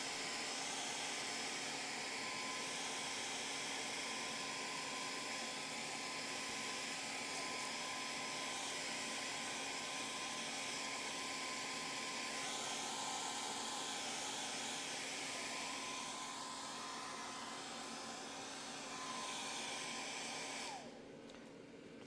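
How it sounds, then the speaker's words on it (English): Hair dryer drying clear coat on sandcarved wood, a steady whooshing blower hum with a constant tone that runs for about twenty seconds before switching down near the end. "I'm gonna take our hairdryer and just kind of dry this real quick."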